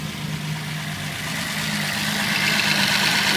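A Datsun 260Z's engine idles nearby with a steady, smooth hum and a light mechanical whir, holding an even rumble that grows slightly louder toward the end.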